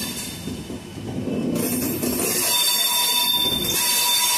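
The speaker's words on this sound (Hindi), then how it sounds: "प्रयागराज मुजफ्फरपुर वीकली एक्सप्रेस खड़ी है, साप्ताहिक ट्रेन है ये" A Prayagraj–Muzaffarpur weekly express stands at Rambagh station in Prayagraj, giving a steady, fairly loud rail rumble and hiss with faint metallic clinks. No voices are heard.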